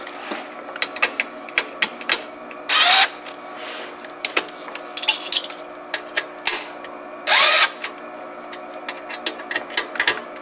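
Electric screwdriver driving screws into a Tegra card inside a Tesla Model S MCU, two short whirring bursts standing out among frequent small clicks and taps of handling, close and fairly loud.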